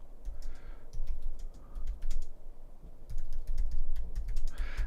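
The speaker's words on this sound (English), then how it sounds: "I'm typing." Fingers tap rapidly on a computer keyboard, close and fairly loud, in irregular bursts of clicking keystrokes with short pauses between runs, and no one talking.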